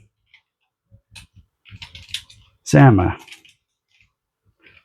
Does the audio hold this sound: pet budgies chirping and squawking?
no